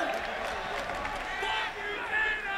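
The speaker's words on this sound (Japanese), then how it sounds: "場内はブーイングとジェイ・ホワイトへの歓声が交錯します" Wrestling arena crowd reacting to Jay White at a New Japan Fighting Spirit Unleashed event, a dense, sustained roar of mixed booing and cheering with voices over it.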